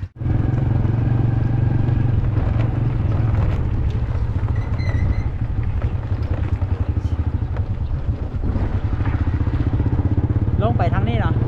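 A motorcycle is ridden through the highlands of Xaysomboun, Laos. Its engine drones close and steady the whole time, with brief voices near the end.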